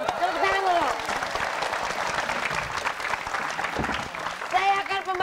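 Audience applause at an Indonesian live comedy show: a steady wash of clapping from a studio crowd that holds across the clip, with a voice speaking over it near the start and end.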